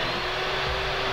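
A voice imitates a chainsaw, giving a steady, buzzing drone held evenly for about a second without pause.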